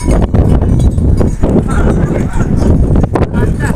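Cattle move through a farm pen during handling, where a jealous cow protective of her calf gets in the way: close hoof clatter and shuffling with loud handlers' voices shouting over the animals.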